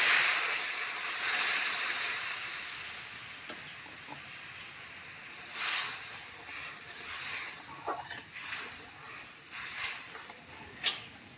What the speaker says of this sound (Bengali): ডালটা এবার আমি ঢেলে দেবো।